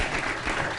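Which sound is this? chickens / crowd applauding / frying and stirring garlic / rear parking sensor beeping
crowd applauding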